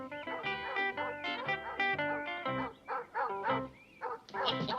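A hound dog barks and bays in a rapid run of loud, close, tonal yelps and howls, with brief gaps and whimpering notes toward the end.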